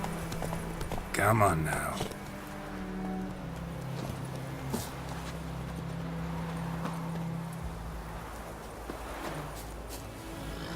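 Hooves of the horse in The Witcher 3 video game thud under game ambience, with a short burst of louder sound near the start; someone speaks briefly over it.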